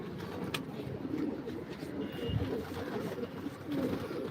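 Pigeons coo in a loft in a steady, overlapping murmur, with soft low rolling calls close by over faint background noise and no clear talk.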